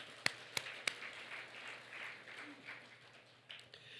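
A few sharp, separate claps ring out at the start of a Korean church sermon, then give way to a soft, distant patter of congregation applause that fades and briefly returns near the end.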